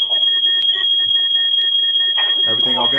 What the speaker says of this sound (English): It's the alarm going off in my kitchen.